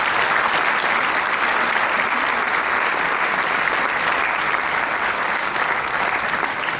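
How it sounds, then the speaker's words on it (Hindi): Enthusiastic applause from a large audience at a school mentorship event honouring a governor, thick continuous clapping at a steady, full level from start to finish. "माननीय गवर्नर साहब के लिए जोरदार तालियां"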